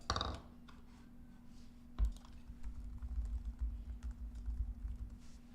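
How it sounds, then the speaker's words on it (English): Soft clicking of computer keys, a short burst of keystrokes followed by scattered taps and a faint low hum in a quiet room. "I'm just going to type in the next matchup"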